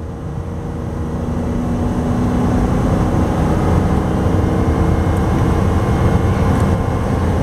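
A 1997 Road Trek 190 Class B camper van engine pulls up a steep hill, its broad drone and road noise swelling slightly after the first second and then holding steady and loud.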